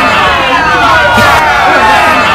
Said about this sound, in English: Why y'all booing?